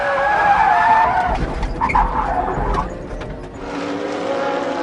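A Lister race car spins and skids on the track at the 2004 Le Mans Endurance Series 1000 km of Silverstone, tires squealing loudly as the engine revs, then dropping away to a steadier car drone.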